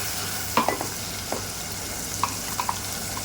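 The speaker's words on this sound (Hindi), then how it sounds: "जो ये मसाला आपके सामने पीसी थी ये डाल देंगे" Ground masala and chopped tomato fry and are stirred in a pan for a cluster bean and potato curry, giving a constant close sizzle broken by a few sharp spoon scrapes and clinks.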